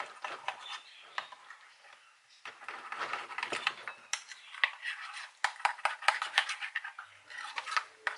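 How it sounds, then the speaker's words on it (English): A spoon stirs cinnamon powder and honey into a breakfast bowl, clinking and scraping against the dish in quick irregular taps, close and fairly loud, with brief pauses between bursts of mixing. "Just mixing in that additional cinnamon powder and honey just to balance out the taste."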